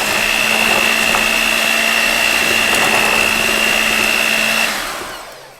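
Electric hand mixer beating protein chocolate chip cookie batter, a loud steady motor whine running nonstop for about four and a half seconds before winding down and cutting off.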